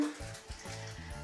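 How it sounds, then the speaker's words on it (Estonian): Soy wax poured carefully into candle glasses, a soft, close liquid trickle in short bursts with brief pauses between pours. "Vala sõjavaha ettevaatlikult küünlaklaasidesse."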